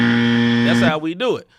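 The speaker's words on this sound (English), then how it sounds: "you got a buzzer that sounds something like this right here" An end-of-segment buzzer gives one steady, loud electronic tone for about a second and then cuts off, and someone speaks right after it.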